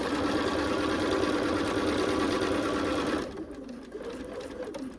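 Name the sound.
sewing machine stitching fabric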